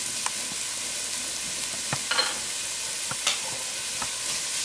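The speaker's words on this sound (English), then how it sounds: "And let that saute a little bit." Minced garlic sautés in a pan for chicken enchiladas with a steady, hissing sizzle and a few scattered light taps of a utensil, close by and without speech.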